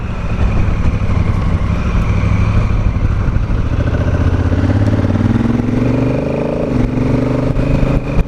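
Honda Africa Twin Adventure Sports motorcycle ridden on the road, its engine a loud, continuous throb close to the rider, climbing in pitch as it accelerates through the gears.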